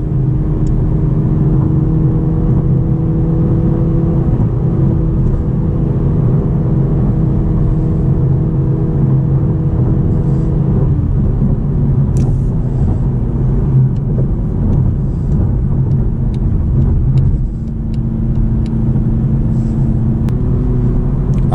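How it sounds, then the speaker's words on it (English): Toyota Supra 2.0 with a four-cylinder turbocharged engine pulling hard while driving, a loud, steady interior drone with rising engine tone and a gear change partway through, no talking. "plenty of power from the 4-cylinder turbocharged engine"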